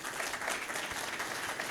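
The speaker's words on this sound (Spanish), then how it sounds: "Don Pueblín, un aplauso para él." Steady audience applause at a book launch, a dense wash of clapping from a crowd that fills the short stretch without pause.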